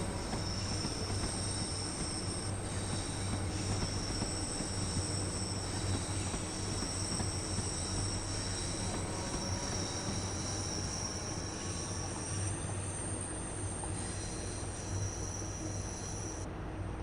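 A train running on the Cathcart Circle Line in Train Sim World 2, with a constant heavy rumble of wheels on track and thin, intermittent high-pitched squeals from the rails, alone and unbroken for the whole stretch.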